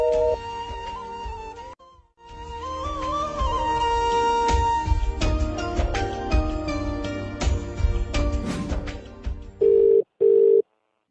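A telephone call tone plays through a long stretch of layered tones and music, then two short, evenly spaced beeps sound near the end before it goes quiet.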